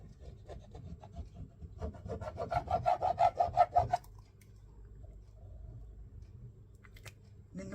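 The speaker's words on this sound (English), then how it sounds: "The noise you can hear is because this card's got a bit of ridges on them, on one side and flat on the other." Card with ridges on one side is rubbed in a quick run of rasping, scratchy strokes that builds to a rhythmic burst, then fades into quiet room noise.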